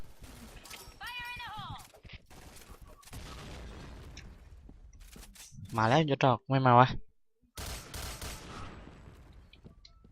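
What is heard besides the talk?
gunfire from an assault rifle in video game Point Blank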